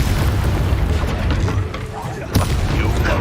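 A Hogwarts video game spell clash produces a dense, loud, rumbling blast texture with heavy low boom and a sharp burst near the end, while a voice speaks over it.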